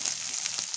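Onion sizzles in hot oil, a continuous bright crackling hiss with small popping bursts, close and steady over a brief moment.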